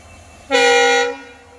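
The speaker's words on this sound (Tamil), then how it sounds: "இப்போ ஒரு ட்ரெயின் வந்துடுது" A single loud train horn blast sounds as a train approaches Paramakudi railway station on the line toward Rameswaram, a rich, steady toot lasting about half a second before fading into quiet.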